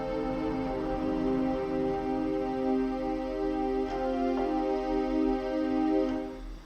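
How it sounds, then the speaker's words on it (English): Synth strings preset played in music software, a sustained, smooth chord of layered string-like tones held steady at moderate volume with a few faint swells, heard alone without speech. "gonna take the synth strings. They sound like this."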